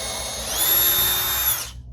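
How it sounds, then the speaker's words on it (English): Power drill boring a small pilot hole through a Harley-Davidson tour pack liner and expanded PVC, a close, loud high-pitched whine rising as the bit bites, then stopping abruptly. "I drill a very small pilot hole first."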